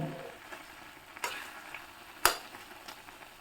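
Ghee hitting a hot pan while a vegetarian dish cooks gives a soft continuous sizzle, faint and close, broken by a couple of sharp clicks of a utensil against the pan.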